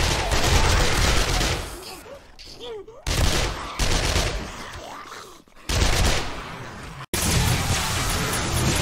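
Sustained automatic gunfire mowing down a zombie horde in 7 Days To Die, dense bursts of rapid shots with brief gaps, loud and close, with excited talk between volleys.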